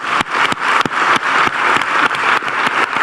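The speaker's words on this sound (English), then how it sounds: "Let's give a big applause for her." Applause from an audience at a talk by Grameen Bank founder Muhammad Yunus, loud and close, a sustained crowd of clapping punctuated by a few sharp, distinct claps standing out from the wash.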